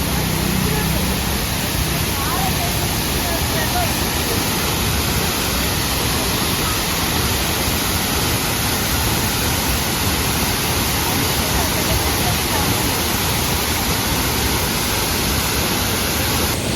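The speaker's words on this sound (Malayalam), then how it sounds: "വെള്ളം വീഴുന്ന ഫോഴ്സ് നോക്കണേ, നല്ല ഫോഴ്സിലാ വീഴുന്നില്ലയോ വെള്ളം" A waterfall crashes down with great force, producing a loud, dense, unbroken roar close by that holds steady throughout.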